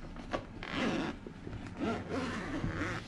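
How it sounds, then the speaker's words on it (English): The zipper on the carrying case of an Xbox Elite Series 2 controller is drawn open in a few short, close, raspy pulls, quiet and with no talk. "Let's unzip this baby."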